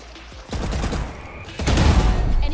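Gunfire in Valorant, a dense volley of shots that starts around half a second in and grows heavier and louder in the second half, with no pause between bursts.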